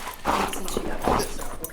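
Dogs whimper and yip in greeting as people arrive home at a warehouse, with two louder bursts of whining close by.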